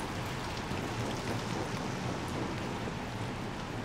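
Steady rain from the video game Little Nightmares 2, a dense, even hiss of falling drops that stays constant and fairly loud throughout, with no voices over it.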